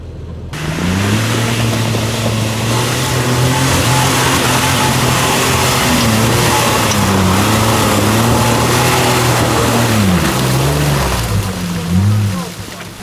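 A close Jeep Wrangler engine revs and labors off-road with a rising and falling pitch, running steadily throughout before cutting off near the end.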